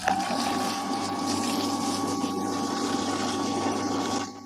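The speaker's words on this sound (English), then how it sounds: "turn the pump on for 1 minute" A pool sand filter pump hums steadily with rushing, churning water, a continuous moderately loud drone that holds evenly before cutting off at the end.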